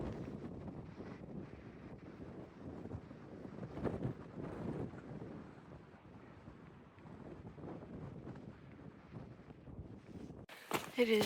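Steady, strong wind on a mountain trail with a view of Katahdin buffets the microphone throughout, a rough roaring rumble with gusts, near and loud.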